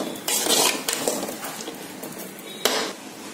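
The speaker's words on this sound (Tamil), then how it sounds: "சேர்த்து நல்லா கிளறி விட்டுக்கோங்க" A spoon stirs bottle gourd kootu with moong dal in a metal cooking pot, giving scraping clinks and clatters with a louder knock near the end, and no voices.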